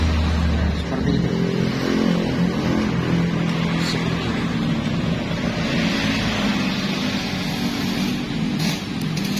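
Yamaha F1ZR two-stroke motorcycle with a 116 spec engine revving through its exhaust, a loud, raspy buzz that swells and falls across the clip, heard close, with voices talking in the background.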